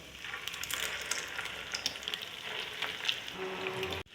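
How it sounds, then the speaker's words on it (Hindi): Potato chicken cutlets dipped in egg shallow-frying in a pan, a steady close sizzle with scattered crackles and pops throughout, ending abruptly. "बिल्कुल शैलो फ्राई होगा।"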